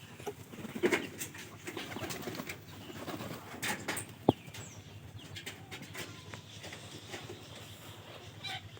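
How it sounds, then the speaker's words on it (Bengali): Domestic pigeons being fed on the ground give soft, low cooing with some wing flapping, faint and steady throughout, with a single sharp click partway through. "আমাদের এই যে সবগুলো কবুতর আজকে নিচে নামায় খাবার দিতেছি"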